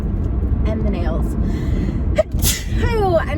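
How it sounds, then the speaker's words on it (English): A single short sneeze bursts out partway through, loud and close, amid a quiet room with faint background noise and some brief vocal sounds. "And I sneeze."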